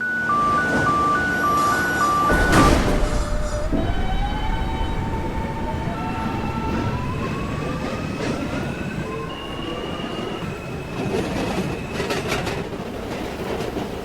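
Counterclockwise A subway train on the outer loop: door chimes and doors closing, then the train pulls away with rising motor whine, rumbling wheels and clicking rail joints, no talk.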